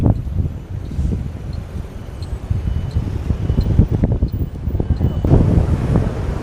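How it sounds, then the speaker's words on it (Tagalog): Cold coastal wind gusts and buffets against the microphone in a continuous rough rumble at a bus stop in Jinshan District, New Taipei, Taiwan, loud and close throughout. "Oh my God, ang lamig ng hangin."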